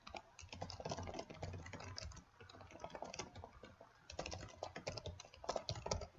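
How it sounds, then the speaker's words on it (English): Quick, dense keystrokes on a computer keyboard rattle on almost continuously, close but soft, with brief pauses between bursts and no talking. "That was a lot of typing."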